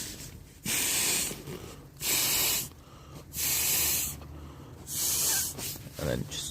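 Air hisses loudly through the opened valve of inflatable camping gear in four or five separate bursts, each lasting about a second, with short quiet gaps between them and a person speaking briefly.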